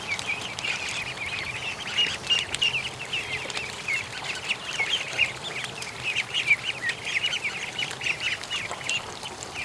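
Ducks quack around their pool and feeder of fresh water, a busy run of overlapping calls close by, rising and falling in bursts without pause.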